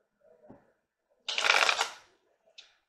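A deck of tarot cards is riffled in a short, crisp burst of flapping card edges, close and clear, with a couple of soft handling taps before and after.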